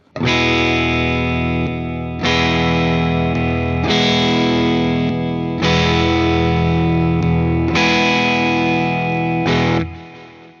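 Crunchy electric guitar through a Behringer Centaur and a Fender TMP Mythic Drive overdrive strums a few sustained chords, each ringing out for a couple of seconds before the next, loud and close.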